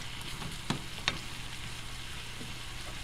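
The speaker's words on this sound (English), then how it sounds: "flip them one more time, just let them saute." Breakfast food sautéing in a pan in a home kitchen, a steady close sizzle with two sharp clicks of a utensil.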